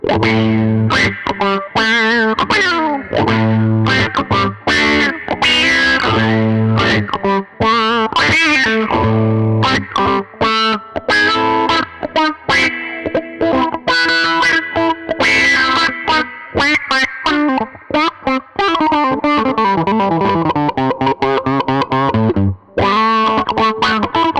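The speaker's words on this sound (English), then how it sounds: "this is obviously based on the old Neutron pedals, which are great for those kind of quacky funk things" Electric guitar played through an Amplitube 5 emulation of a Neutron envelope filter pedal, giving quacky, wah-like funk lines with distortion and chorus. The playing is loud and continuous, with choppy rhythmic bursts and sweeping filtered tones.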